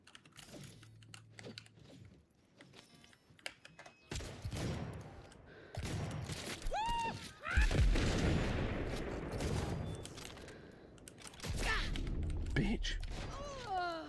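Shotgun blasts in a video game, heard as several sharp booming shots amid rapid clattering gunfire and in-game effects, with someone talking over the action.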